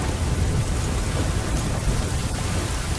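A heavy storm with steady dense rain and rolling thunder roars loud and unbroken throughout, with no voices.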